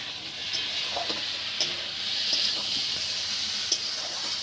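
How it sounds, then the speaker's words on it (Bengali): Potato and pointed gourd curry sautéing in a pan, giving a steady soft sizzle with scattered stirring clicks and scrapes, close and moderately loud. "তরকারি দিয়ে আলু দিয়ে কষা হয়ে গেছে"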